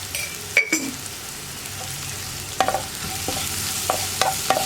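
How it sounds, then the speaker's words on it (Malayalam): Sliced onions with salt stir-fried in a pan, a close, steady sizzle with a few sharp scrapes and clinks of the spatula against the metal. "ഇതൊന്ന് നന്നായിട്ട് ഇളക്കി ഈ സവോളയുടെ കളറൊക്കെ ഒന്ന് ലൈറ്റായിട്ട് ബ്രൗൺ ആയി തുടങ്ങുന്നത് വരെ ഇളക്കി കൊടുത്തുകൊണ്ടിരിക്കുക"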